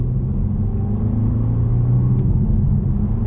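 A 2020 BMW M135i F40 cruising along the road, heard from inside as a steady, loud low rumble of engine and tyre noise without speech.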